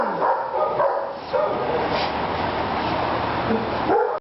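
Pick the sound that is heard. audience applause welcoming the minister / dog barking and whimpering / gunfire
dog barking and whimpering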